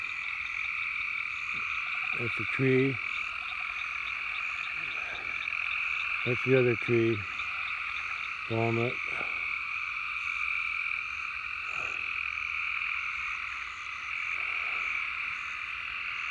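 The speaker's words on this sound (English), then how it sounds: "I can sure hear those frogs in the pond." Frogs in a pond croak in short rattling bursts at irregular intervals against a constant high insect chorus at night, while someone speaks quietly now and then.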